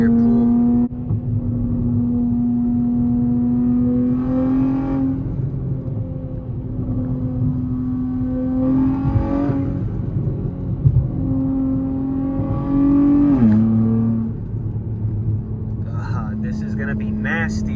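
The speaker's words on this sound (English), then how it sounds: "I need to do a third gear pull." Nissan Z with upgraded turbos pulling hard in third gear, its engine note climbing in rising sweeps with brief dips at gear or throttle changes, loud and close from inside the car.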